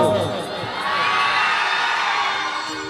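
A crowd at a Durga Puja event shouts and cheers loudly in a sustained roar, with high whoops and children's voices mixed in, following a brief spoken call.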